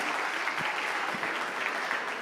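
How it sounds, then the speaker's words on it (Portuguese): A church congregation claps steadily during a worship service, dense even applause filling the room for a couple of seconds, moderately loud and without speech on top. "Vamos dar um aplauso ao Messias."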